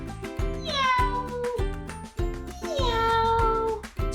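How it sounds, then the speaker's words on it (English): A cat meows loudly and close, giving a series of drawn-out, rising-then-falling cries one after another. "Yes, a cat says meow."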